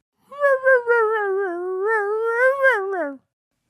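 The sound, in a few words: wailing puppy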